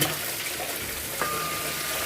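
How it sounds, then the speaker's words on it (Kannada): Water runs steadily from a tap onto dishes in a kitchen sink, a constant splashing rush with a brief clink partway through. "ಈಗ ಸ್ವಲ್ಪ ನೀರು ಬಿಡ್ತೀನಿ ರೀ"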